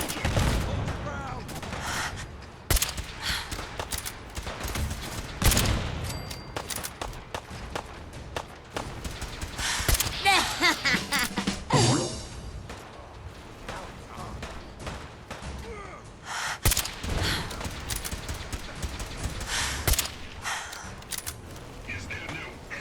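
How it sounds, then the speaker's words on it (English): Repeated gunfire in Fallout 4, bursts and single shots scattered through the combat alongside footsteps and running, with a character's voice calling out over the fighting. "Well struck. Keep firing, soldier."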